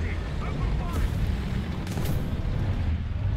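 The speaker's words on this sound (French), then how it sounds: "Un petit coup d'artillerie" Artillery fire in a tank battle video game, heard as a dense, continuous low rumble with booming bursts rising around the one- and two-second marks, steady and loud throughout.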